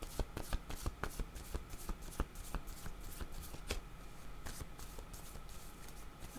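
Tarot cards being shuffled close by, a steady run of soft riffling and slapping clicks with sharp individual snaps, no voices.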